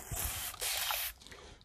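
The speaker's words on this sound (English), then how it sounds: "take my water bottle and I'm going to spritz this hair everywhere" Water spray bottle spritzing hair, two short hissing bursts close up, each lasting about half a second, with quiet handling between them.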